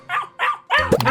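A cartoon dog barks in two short, evenly spaced yaps, then a longer, rougher run of growling barks as it chases an intruder from a doorway, close and loud.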